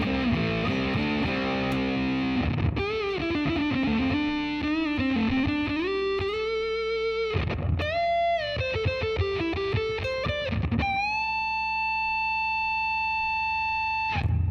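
A Les Paul electric guitar runs through a Big Muff fuzz pedal, playing thick distorted riffs and sliding notes that end in a long sustained fuzzy tone, loud and alone.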